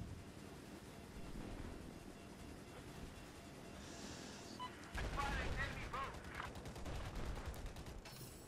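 Gunfire in Battlefield 4 on the Hainan Resort map, heard from a low-flying vehicle: a rapid, steady burst of automatic shots in the second half, fairly distant and muffled under constant engine noise.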